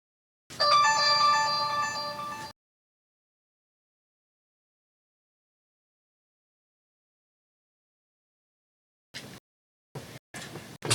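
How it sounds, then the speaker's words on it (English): A phone rings with a bright melodic tone for about two seconds, clear and fairly close, followed by long silence and a few short bursts of sound near the end. "I'm probably going to get a ding on my phone here in just a second"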